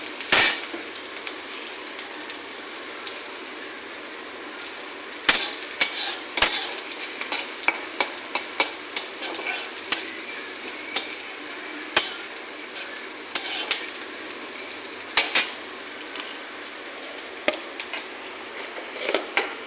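Onions fry in a pan under a continuous sizzle, broken by repeated sharp clicks and scrapes of a utensil stirring against the pan at uneven intervals.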